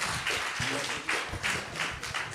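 An audience at a wrongful conviction summit applauds exonerees: steady, moderately distant clapping from a crowd, a rhythmic patter of many hands with no voices over it.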